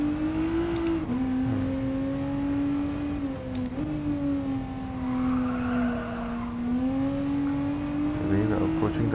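The engine of a 2014 Toyota FT-1 in Gran Turismo Sport, racing on the Nürburgring, holds a loud, steady drone with gentle pitch swells and dips as the car is driven. A voice talks over it.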